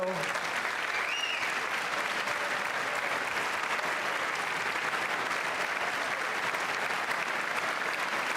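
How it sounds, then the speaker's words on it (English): Applause at the State of the Union address, a dense, even roar of clapping heard at a distance, steady for several seconds with faint voices underneath. "They have to stand and clap for that, right?"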